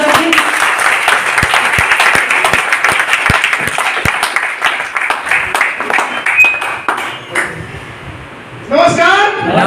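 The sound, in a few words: audience applause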